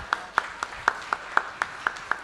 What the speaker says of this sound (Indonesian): Coba tepuk tangan dulu buat Gudang Garam.